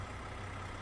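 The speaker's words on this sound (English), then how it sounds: "This is a sweet sounding engine." Detroit diesel engine of a Freightliner Cascadia truck cruising in a driving simulation game, a steady low rumbling drone held evenly throughout, with no talk over it.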